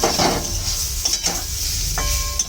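Boiled, thinly sliced papaya sautéing with fried spices and tomato in a pan for a vegetarian dish, giving a steady close sizzle with a few stirring scrapes and clinks, no talk.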